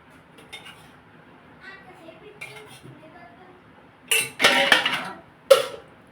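Metal spoon clinks and scrapes against a clay pot as chicken is stirred with yogurt, quiet at first then a loud burst of clattering strokes, with a voice talking.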